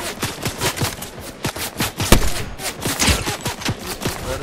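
Rapid video game gunfire, including a sniper rifle with a holographic sight, crackles in quick bursts and repeated shots, with one louder, sharper report standing out midway through.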